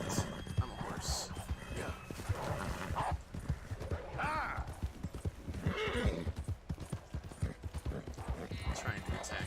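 An Arabian warhorse in a video game neighs and clops its hooves over a steady wash of game sound, with a player talking throughout and the whinnies rising clearly around the middle of the stretch.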